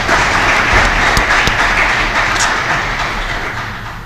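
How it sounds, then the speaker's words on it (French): Studio audience applauding a quiz show contestant after a correct answer, a loud, steady wash of clapping that fades slightly toward the end. "On l'applaudit, les amis."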